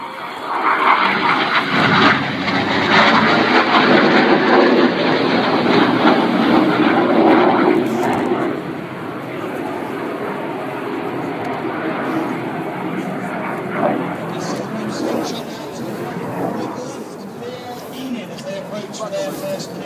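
RAF Red Arrows jets fly a display manoeuvre at Silverstone, a loud broad jet roar sweeping overhead then easing to a steadier distant rumble, with a commentator talking throughout.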